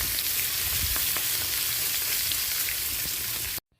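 Pieces of rohu fish fry in hot oil in a pan, a dense, even sizzle with scattered pops that runs close and steady, then cuts off abruptly.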